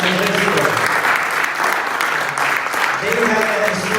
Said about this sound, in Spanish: Den un aplauso fuerte a Jesucristo